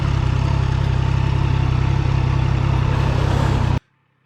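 Triumph Trident motorcycle engine running steady and loud at close range, a dense continuous throb with a rich low rumble, cutting off abruptly near the end.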